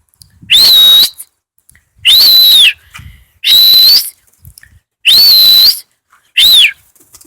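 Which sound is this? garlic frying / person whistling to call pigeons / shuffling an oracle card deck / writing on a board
person whistling to call pigeons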